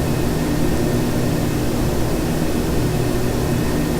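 A Q400 turboprop airliner's engine and propeller drone in the Flightgear flight simulator, a steady, loud, unbroken roar throughout with no talk.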